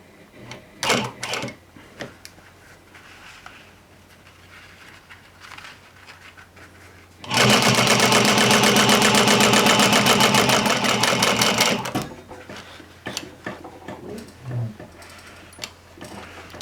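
A sewing machine runs in one steady burst of several seconds, stitching the seams of a pair of jeans at a 5/8-inch guide, with quieter handling noises before and after.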